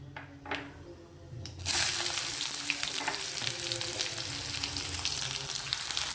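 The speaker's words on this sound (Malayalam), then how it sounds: "സവോള ചേർത്തൊന്ന് ഇളക്കി കൊടുക്കാം." Sliced onion goes into hot oil with popped mustard seeds for Kerala rava upma. After a few quiet clicks, a loud burst of sizzling starts and settles into steady close frying, with scraping and stirring sounds on top.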